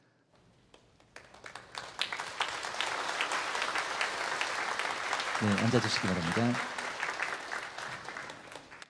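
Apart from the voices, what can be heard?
church congregation applauding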